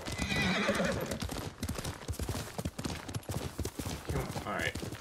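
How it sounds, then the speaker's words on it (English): A horse in the video game Ghost of Tsushima clip-clops along at a steady gait and lets out a loud neigh near the start and again near the end, with someone talking over the hoofbeats. "Horsey."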